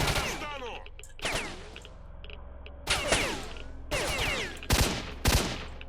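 An enemy fires a gun in S.T.A.L.K.E.R.: Shadow of Chernobyl, with several sharp, reverberating shots and short bursts spaced a second or so apart at moderate distance.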